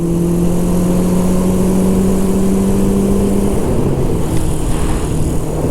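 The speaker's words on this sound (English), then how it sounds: "Give you some of that original exhaust note." Loud, sustained exhaust drone from a 1974 Honda CB750 four-cylinder motorcycle held at constant revs for several seconds, then the pitch falls as the engine settles back down.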